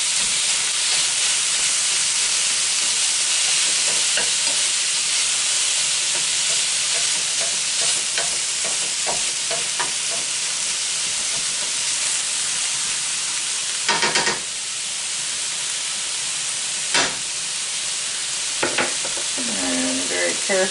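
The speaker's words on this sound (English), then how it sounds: "We're gonna ground up or fry up 1 pound of burger." A pound of ground beef fries with onion in a pot, giving a loud, continuous hissing sizzle with occasional scrapes and knocks as it is stirred.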